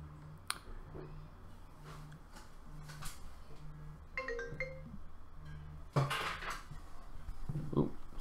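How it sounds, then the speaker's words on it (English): A mobile phone rings nearby with a repeating electronic ringtone, short tones pulsing at a steady rhythm, fairly quiet, with a few clicks and rustles around it. "my phone's just going off"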